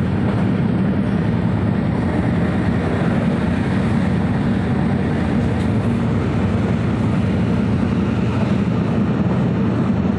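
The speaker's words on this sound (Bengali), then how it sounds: "তাই ট্রেন এত স্পিডে চলছে" A train runs at high speed, heard as a steady, loud rumble and roar of wheels and carriage noise that goes on without break, with no voices.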